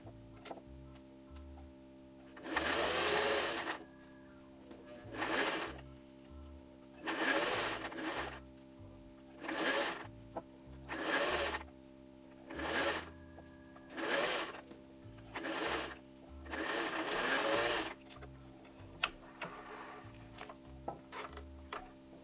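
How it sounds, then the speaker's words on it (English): A sewing machine runs a straight stitch along the edge of a toddler apron in about nine short bursts of whirring and rattling, separated by brief pauses, up close and with no voices. "I got my needle on straight stitch all the way to the right, and I am just going to stitch as close to this edge as I can"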